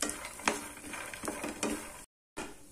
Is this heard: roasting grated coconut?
yes